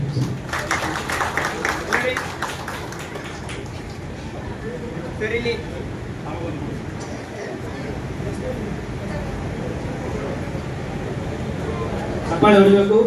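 An audience at a felicitation event in Hyderabad claps for the first three seconds. The applause then gives way to crowd chatter and someone speaking, with a brief louder burst near the end.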